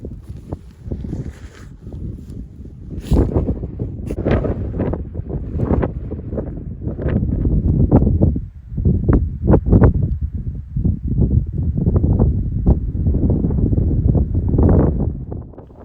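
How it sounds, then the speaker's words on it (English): Strong gale buffeting on the exposed moorland of Kinder Scout at sunset, loud gusts roaring and battering the microphone in repeated surges throughout. "it was absolutely blowing a gale"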